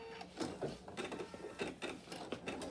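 An embroidery machine sews a placement stitch for a bunny design's inner border, giving a quiet, rapid mechanical chatter of needle strokes and gear clicks in a steady rhythm.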